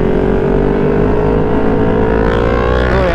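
A Kawasaki ZX motorcycle with a loud exhaust revs on the road among other riders, giving a close, continuous, throaty engine drone that climbs in pitch near the end.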